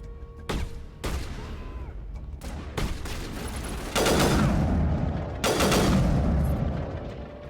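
Game gunfire from a squadmate's sniper rifle in Mass Effect, with sharp shots near 0.5, 1, 2.5 and 2.8 seconds, then heavier sustained bursts of fire around 4 and 5.5 seconds over a constant battle din.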